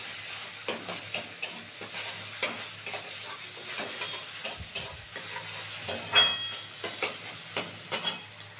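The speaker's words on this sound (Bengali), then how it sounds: "সুন্দর করে ডিমটা আগে ভেজে তুলে নিয়ে তারপরে সবজিটা ভাজবো।" Egg frying in a pan with gentle oil sizzle, punctuated by regular close scraping and tapping of a spatula stirring against the metal, with no talking.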